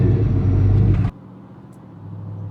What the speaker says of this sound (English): you just hit the key, it fires up every time, and you get this kind of rumble too